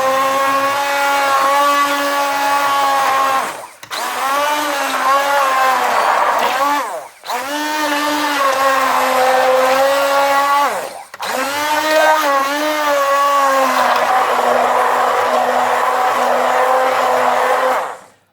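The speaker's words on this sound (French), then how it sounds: "je prends un petit mixeur à main, c'est rapide, et c'est très pratique" A handheld immersion blender purées cooked vegetables and radish tops for soup, whirring loudly and close in four long bursts separated by brief pauses, its pitch wavering as the load shifts.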